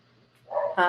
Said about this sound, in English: It's my mom's dogs, I think, barking at the dogs next door.